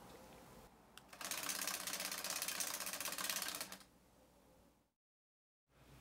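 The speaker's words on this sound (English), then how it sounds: "the Arduino returns to that initial homing sequence where it searches for the magnet" A split-flap display spool driven by an Arduino spins through its homing sequence, giving a faint, steady mechanical whirring and rapid ticking for a few seconds before stopping, followed by near silence.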